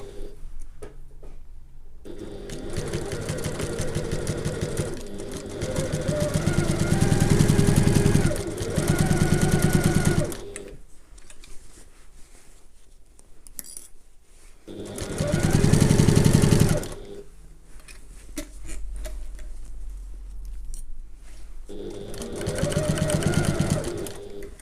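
A sewing machine stitches handbag lining layers under the presser foot in several bursts of steady mechanical whirring, close and loud, separated by short pauses and quieter handling.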